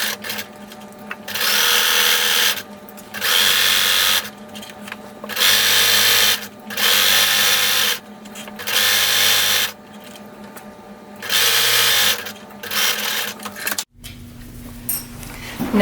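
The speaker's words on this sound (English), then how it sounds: "Now you're going to sew this seam." A sewing machine runs a 5/8 inch straight-stitch seam on an elastic waist skirt in repeated close bursts of steady whirring with short pauses between them.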